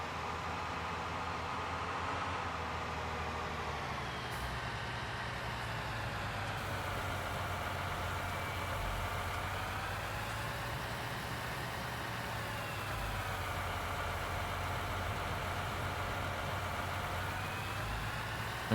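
Tractor engine idling in the farming video game Farming Simulator 19, a steady continuous drone with slowly wavering pitch, alone and unchanging throughout.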